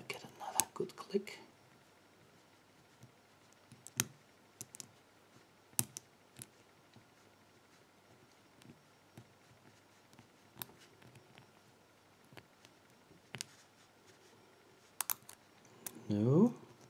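A lock pick working a narrow-keyway lock, giving small, sharp metallic clicks scattered at irregular intervals through quiet stretches, with a voice briefly at the start and end.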